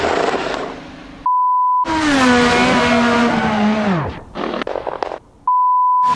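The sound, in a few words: race car spinning off track in racing simulator video game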